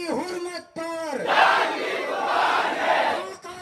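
Sit-in protest crowd in Parbhani, Maharashtra, answering a loudspeaker leader's call with a loud, unified chanted slogan lasting a couple of seconds, the amplified leader's voice audible around it.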